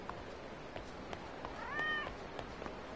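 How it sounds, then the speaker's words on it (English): A cat in the video game Yakuza 0 lets out a single drawn-out meow midway, moderately loud over a background of soft footstep-like thumps and game ambience. "Dang, there's a cat here."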